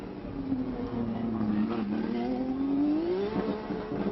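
Open-wheel CART race cars at the 1991 Detroit street race pass alongside a safety vehicle, a steady engine drone whose pitch dips and then climbs as a car accelerates, fairly loud and continuous with no talk.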